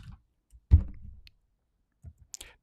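A few crisp key presses on a computer keyboard entering a shortcut, one sharp click followed by a pause and then a couple of lighter taps, close and isolated in a quiet room.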